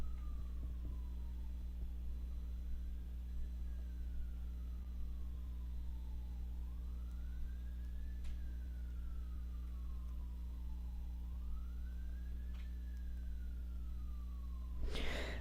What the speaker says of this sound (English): We just had a little siren go by there for a minute